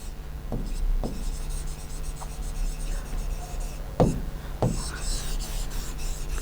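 A pen writes a topic on paper in capital letters, with close scratchy strokes and several distinct taps and flicks spaced irregularly over a few seconds, alone without speech.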